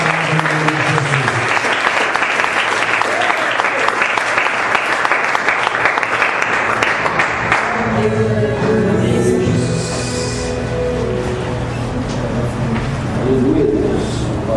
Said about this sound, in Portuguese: vamos louvar a Deus suas palmas